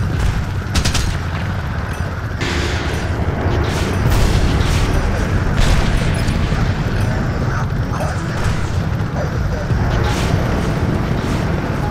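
Rapid gunfire and booming explosions from the Apache Air Assault helicopter game on PS3, a dense continuous barrage with a low engine rumble underneath.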